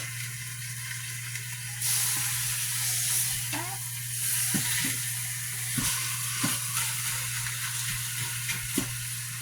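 Halved beef chunks sear in an Instant Pot on saute mode, a close, steady sizzle and hiss with a low constant hum beneath and occasional clicks and scrapes of the meat being moved.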